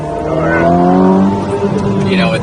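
A 2021 Ferrari SF90 Stradale engine winds down in manual mode, its pitch falling smoothly through a few seconds at close range, loud and unbroken.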